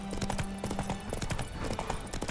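Horse hooves trot in The Witcher 3 with a steady, quick clip-clop rhythm. The sound is close and fairly quiet, with a faint snort partway through.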